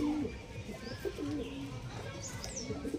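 Fancy Andra pigeons cooing in a low, steady series of warbling calls close by, with faint chirps from other birds over constant background noise.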